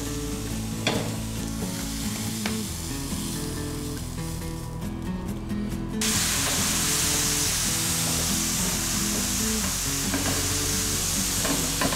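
Shrimp portions sauté in a large, very hot frying pan with a steady, loud sizzle and repeated stirring scrapes. The frying grows broader and brighter partway through.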